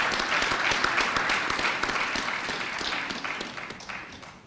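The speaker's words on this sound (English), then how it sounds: "So I think that in alone deserves another round of applause." Audience at a NAACP-sponsored high school panel in Peekskill giving a round of applause, steady moderate clapping from a crowd that slowly tapers off.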